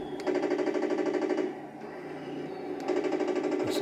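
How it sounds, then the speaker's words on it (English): A 1/16 scale Tiger 1 RC tank's machine-gun sound effect plays as a rapid, steady electronic rattle in two bursts with a brief dip between, loud and close. "machine gun."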